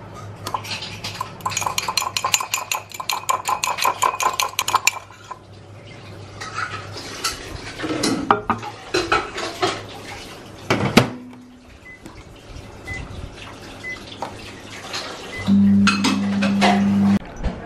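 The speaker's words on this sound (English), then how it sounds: "I'm going to beat 2 eggs in a mug" Rapid metallic clinking of a fork beating two eggs in a mug, in quick repeated bursts, followed by scattered kitchen clatter and knocks.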